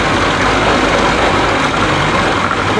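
Evinrude 55 hp outboard boat engine idling with a steady, dense low rumble and broad mechanical noise, close and continuous without pause.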